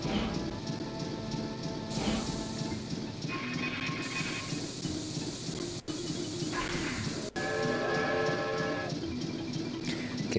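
Chuffy the train waits at a station in Banjo-Tooie, a continuous chugging, rumbling drone layered with sustained tonal notes that shift every couple of seconds, loud and steady throughout with no talking.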